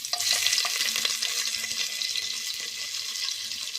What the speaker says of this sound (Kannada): ನೀರುಳ್ಳಿ ಸೋಕಡೆ ಫ್ರೈ ಆಡು ನೀರುಳ್ಳಿ ಫ್ರೈ ಆಯ್ಲೆಕ್ಕನೆ